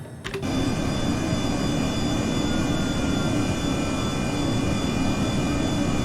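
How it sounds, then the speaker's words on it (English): Honda Jet in Microsoft Flight Simulator on approach as the landing gear lowers, heard as a steady, loud jet engine drone that starts with a brief transient and holds evenly throughout. "landing gear coming down now"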